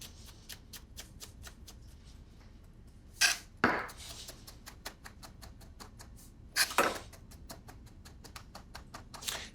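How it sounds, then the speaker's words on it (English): Truffle being finely chopped with a kitchen knife on a board, rapid rhythmic taps in a steady close run, broken by a few louder scraping knocks. "It's just like chopping parsley, but it's truffle."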